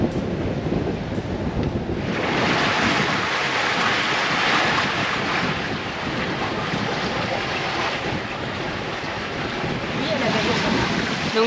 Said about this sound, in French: Donc 20 nœuds de vent au grand largue, pratiquement pas de houle.